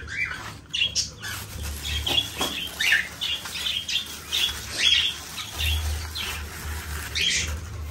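Parrots and large cockatiels squawk and chirp repeatedly while feeding on grain and grass, with scattered sharp calls and some wing rustling nearby.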